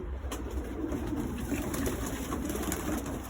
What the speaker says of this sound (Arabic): هذا الكمري البغدادي الاول الاصلي